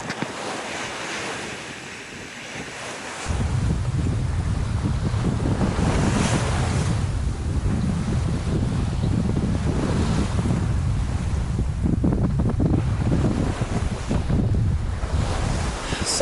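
A sailboat heels along on the open sea off Indonesia, with a continuous loud rush of wind buffeting the microphone and steady surging waves and hull splash throughout, no voices.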